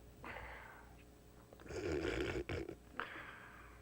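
A voice mimics a sleeping puppet figure snoring, drawing out several rough, breathy snore sounds one after another, close and fairly loud with short pauses between them.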